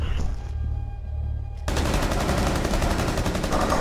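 Rapid automatic gunfire in Rainbow Six Siege, a loud sustained burst of close shots after a brief muffled stretch, with no talk.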